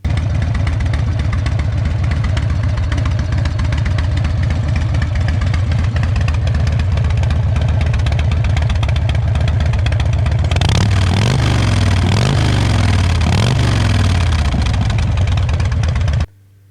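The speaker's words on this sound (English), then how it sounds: "it has the Vance & Hines big radius exhaust, which sound" Harley-Davidson Evo motorcycle engine with an S&S Super E carburetor and Vance & Hines big radius exhaust, idling loud and close with a steady low rumble, then revving in several rising and falling bursts before cutting off at the end.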